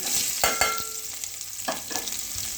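Bay leaf, caraway and cloves fry softly in hot oil for a simple makhana curry, a low crackling sizzle broken by a few sharp clinks of a spoon stirring the pan.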